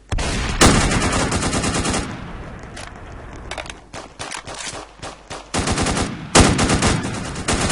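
Loud bursts of rapid automatic gunfire in a game, with several volleys separated by short pauses and scattered single shots in between.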